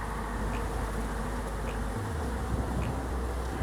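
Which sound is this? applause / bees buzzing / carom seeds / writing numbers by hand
bees buzzing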